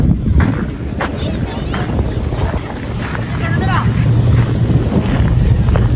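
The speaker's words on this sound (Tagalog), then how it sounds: "Masarap po yung hangin dito." Wind blowing by the sea at Manila Bay, a steady rushing buffet against the microphone with faint surf beneath and a few distant high tones, recorded outdoors close to the shore.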